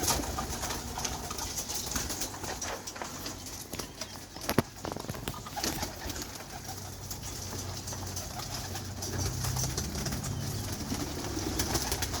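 Pigeons in a loft during trap training, with soft low cooing and rustling under a steady background, plus an occasional sharp knock; no talking.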